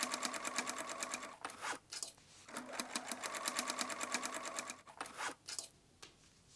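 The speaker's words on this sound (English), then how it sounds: "Stretch elastic and sew top stitching lines along waistband." A sewing machine runs top stitching along a stretched elastic waistband on shorts, with several bursts of fast, regular stitching close by broken by brief pauses and a few softer stops toward the end.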